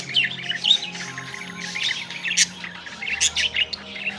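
Lutino and albino budgerigars in an aviary chirp and squawk in quick, busy bursts, close and fairly loud, over a faint low hum.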